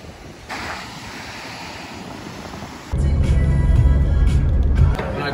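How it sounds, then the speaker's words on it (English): Wind and surf at a beach at Jurien Bay roar in a constant broad rush, growing louder and heavier partway through with strong wind buffeting the microphone. "so we're at the beach"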